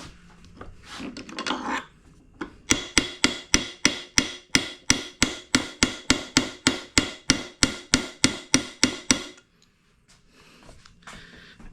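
Metal hammer repeatedly striking a drift to knock the crank bearing out of a Vespa smallframe engine case, about twenty sharp, evenly spaced blows at close range, with brief scraping before and quiet after.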